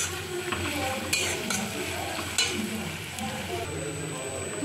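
Cumin and onion fry with a pinch of salt in a pan, a soft continuous sizzle with a few sharp utensil clinks against the metal.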